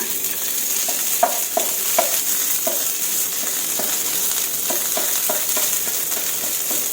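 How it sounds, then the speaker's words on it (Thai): Red curry paste being stir-fried in a pan, with a steady soft sizzle and a series of scraping, clacking stirs spaced unevenly throughout, close and moderately loud with no talk. "ผัดพริกแกงให้หอมค่ะ"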